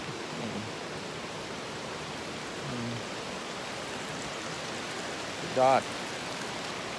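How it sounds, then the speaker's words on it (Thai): Light, misty rain falls over a rural village with rice fields near Chiang Mai, a soft steady hiss throughout, with someone speaking briefly in the background. "คือฝนก็ไม่ถึงขนาดตกแรงจนถึงเราทำให้เราเปียกปอนได้นะแต่ว่ามันก็ลงเหมือน"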